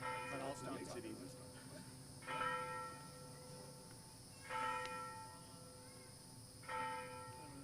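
A church bell rings at an outdoor school commencement ceremony in four slow, evenly spaced strikes that fade between hits. The sound is faint and distant, with quiet crowd murmur underneath.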